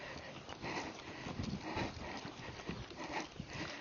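A Tennessee Walking Horse moves at a walk, its hooves giving a steady, fairly close clip-clop rhythm over a low, muffled background with no talk.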